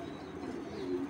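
A pigeon, a recently laid hen from a pair of fancy pigeons, gives a low, throaty coo at close range, alone and unbroken for just over a second.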